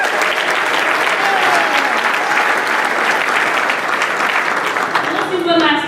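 Dense, steady applause from a graduation audience fills the hall, loud and close throughout, with a voice beginning to speak over the clapping near the end.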